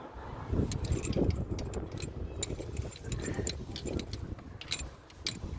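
A quick-fit snow chain goes onto the outer tyre of a truck wheel, threaded through the rim hole, with repeated metallic jangles and clinks of chain links, close up, amid low handling noise and no speech.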